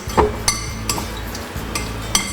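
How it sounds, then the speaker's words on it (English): Tuna, olives and olive oil being stirred together in a bowl, a spoon clinking and scraping against the dish in several sharp knocks over a soft wet churning, close and clear with no talking. "And give all this a good mix."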